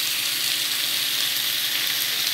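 Chicken pieces frying in hot cooking oil for afritada, a steady close hissing sizzle with no breaks and no talk.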